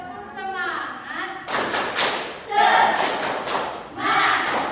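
Schoolchildren in a primary-school classroom repeating a spirit clap in unison, the teacher speaking first, then loud rhythmic group clapping mixed with children's shouted chanting in several bursts.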